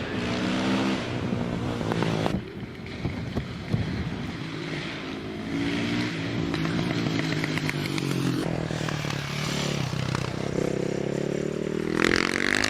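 Racing motorcycles climb the Prescott hill course, engines howling loud and close with repeated rising revs broken by gear changes, the pitch dropping and climbing again across the run.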